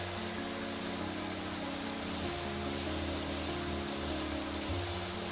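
A pressure washer sprays continuously in the video game PowerWash Simulator 2, a loud, unbroken hiss of water over a low mechanical hum, with no pauses.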